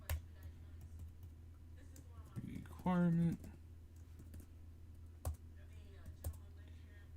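A computer keyboard typed on during live game coding: quiet, scattered key clicks close by, with someone speaking briefly in the middle.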